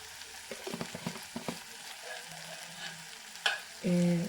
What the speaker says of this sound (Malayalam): അപ്പോൾ ഇത് നല്ലോണം വഴറ്റി നല്ലോണം മസാലകളൊക്കെ ഉള്ളിൽ യോജിപ്പിച്ചതിന് ശേഷം മാത്രം